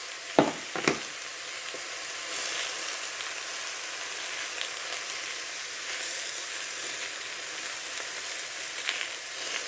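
Bacon grease sizzles in a pot while a squash and shrimp casserole is cooked, giving a steady, moderately soft hiss and crackle, with a couple of sharp utensil knocks near the start.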